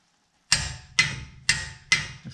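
A torque wrench tightens the lower ball joint bolts on a 3rd-gen Toyota 4Runner, giving four crisp metallic clicks about half a second apart. They are close and sharp against otherwise quiet surroundings.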